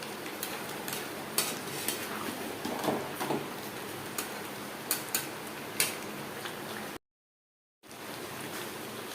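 Potatoes and chicken being stirred in a pan for a restaurant-style aloo chicken curry, with soft scraping and sizzling plus sharp spoon clicks against the pan at irregular intervals.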